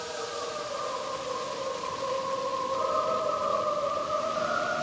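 Slowed-down cricket chirps: slow, drawn-out tonal tones overlap like a choir or siren, wavering and sustained throughout, eerie and steady with no talking.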